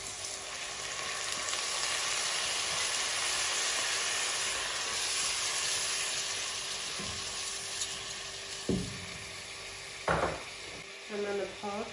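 Onion, garlic and rice fry in a pan with a soft, even sizzle. Near the end come a few clinks and a spoon stirring against the pan.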